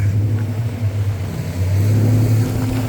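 A steady, loud boat engine drone from a NorthSilver 645 boat, with a deep low hum, holding level throughout like an engine running hard, with no voices.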